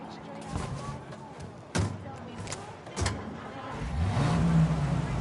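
A car in Mafia: Definitive Edition drives along with a steady engine hum and a few sharp thumps, then the motor revs upward near the end. Voices talk over it.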